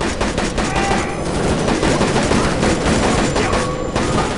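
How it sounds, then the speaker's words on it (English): Rapid automatic gunfire rattles in the shooter game Shadow Ops: Red Mercury, a dense, loud, continuous burst of shots with brief gaps, set against a rumbling train-level background and no talking. "a guy firing an automatic weapon"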